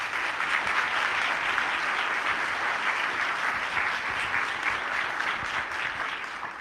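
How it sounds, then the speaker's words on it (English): Sustained audience applause fills a civic-address hall, a steady, dense wash of many hands clapping at even loudness throughout, with no voices over it. "Please give them a round of applause."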